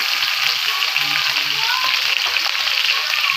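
Mustard seeds, curry leaves and green chillies hiss loudly in hot oil, a dense continuous close-up sizzle with steady crackle throughout.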